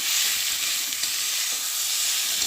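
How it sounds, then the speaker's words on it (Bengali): Boiled taro frying in a pan, a loud steady sizzle with constant hiss throughout, close up and uninterrupted by talk. "সেদ্ধ করে রাখা কচুটার মধ্যে দিয়ে নেবো দিয়ে একটু ভালো করে কষিয়ে নেবো একটু ভালো করে ভেজে নেবো"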